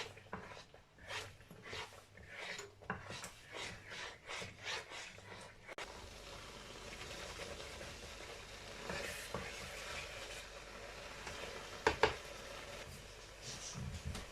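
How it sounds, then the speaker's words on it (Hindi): A spoon stirs watermelon peel halwa with added sugar as it cooks in a pan, giving soft scraping and rubbing strokes with a faint sizzle, rhythmic for several seconds, then a steadier frying hiss. No one speaks. "अब थोड़ी देर के लिए इसको चम्मच चलाते हैं।"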